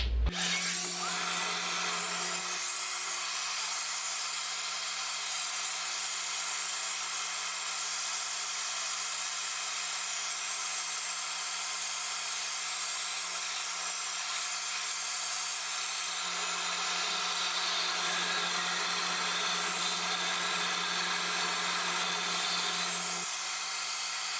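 A Revair blow dryer runs while drying hair, giving a steady, loud, close whooshing roar of airflow with a constant motor hum. It holds nearly unchanged for over twenty seconds, the tone shifting slightly twice, with no talking.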